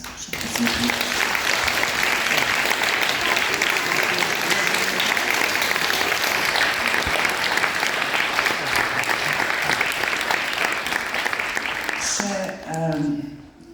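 Sustained, loud applause from a concert audience at a charity concert in Rovte, a dense unbroken wall of clapping that fades near the end as a voice begins speaking.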